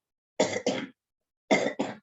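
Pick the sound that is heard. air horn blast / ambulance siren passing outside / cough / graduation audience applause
cough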